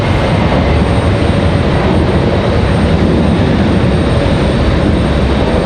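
An American Airlines airliner passing at Raleigh-Durham airport in stormy weather: a loud, steady, broad roar that holds unchanged from start to finish.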